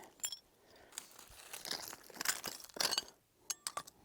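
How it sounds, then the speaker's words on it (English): Broken pieces of an old brandy bottle clink and crunch as they are picked through in an outdoor trash area, with several sharp glassy taps and scrapes close by. "There's another piece of glass."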